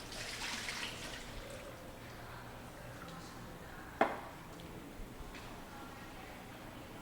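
Salt cod lifted out of its soaking water in a home kitchen while preparing bacalhau à portuguesa: soft, steady watery sloshing and dripping with one sharper splash or knock midway, fairly faint and close.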